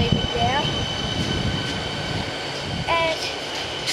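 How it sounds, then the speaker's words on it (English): A train at Westall station rumbles as it pulls away, with a low rolling roar, a couple of brief high squeals of wheels, and no talking. "The train's leaving."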